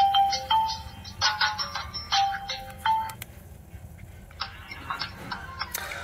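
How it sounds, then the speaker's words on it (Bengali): A Maxtel Max 14 feature phone plays its ringtone, a chirpy series of short electronic beeps in bursts at medium volume, fading to softer scattered tones over a faint background hum. "ফোনটির রিংটোন চেক করব, চলুন।"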